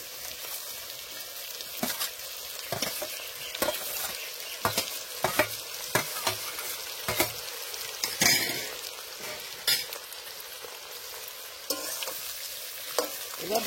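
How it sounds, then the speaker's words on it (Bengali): Pre-fried jackfruit pieces sizzle steadily in a pan while a spatula stirs them with regular scraping strokes, each stroke a sharp clack over the constant frying hiss. "এবার ভালো করে ভেজে নেব।"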